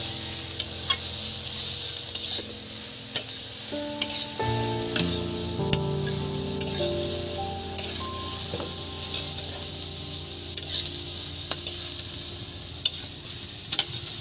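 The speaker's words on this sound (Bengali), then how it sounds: "বেগুনটাকে এবার মশলার সঙ্গে ভালো করে একটু নেড়ে চেড়ে নেবো বন্ধুরা" Eggplant stirred in a hot pan with whole spices, a steady sizzle and frying hiss running throughout with repeated scraping and clinking of the spoon against the pan, close and fairly loud.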